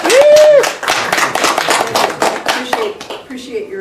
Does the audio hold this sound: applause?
yes